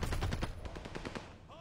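Rapid automatic gunfire in a ranked online shooter game, a close burst of about a dozen fast shots that thins out after a second, followed by a brief tonal game sound.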